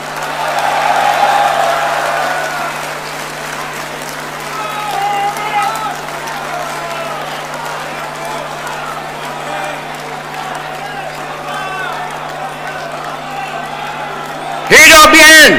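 A crowd applauds the Prime Minister at the 2022 Barisan Nasional convention, a steady wash of clapping and cheering that holds throughout under voices, ending in a brief louder burst.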